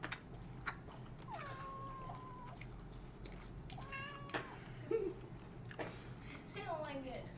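A cat gives several short meows, some rising and bending in pitch, spread across a quiet room while people talk quietly in the background.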